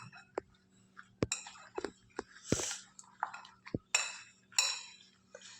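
A spoon clinks and scrapes against a bowl while lemon pickle is mixed with salt, ginger and garlic, giving sharp, irregular taps and soft wet stirring with quiet gaps between strokes.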